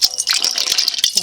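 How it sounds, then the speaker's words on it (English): Water pouring into a large 21-quart pressure canner, a steady splashing gush with rattly bursts running throughout, close and fairly loud. "I'm going to pour in some more water."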